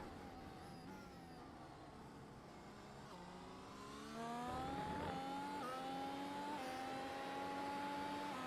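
A Formula-style race car engine in the iFormula online racing game at the Hungarian GP whines steadily, climbing in pitch as it accelerates, with no talk over it.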